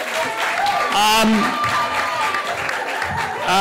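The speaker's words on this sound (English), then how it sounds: "Let's give a round of applause to all of our guys that have presented." Audience at a digital stars throwdown giving presenters a round of applause, sustained crowd clapping with voices and cheering mixed in over it.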